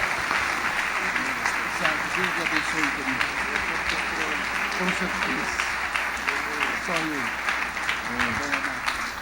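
A church congregation at a 2018 convention applauds warmly, steady sustained clapping from a large crowd filling the room, with a voice speaking over it.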